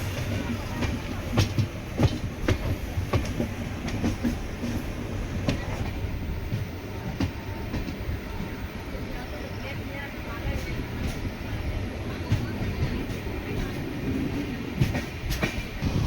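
The Pallavan Superfast Express runs on the Pudukkottai–Tiruchi route on its way from Karaikudi to Chennai Egmore, a continuous rumble heard from onboard with a steady rhythmic clickety-clack of wheels over rail joints.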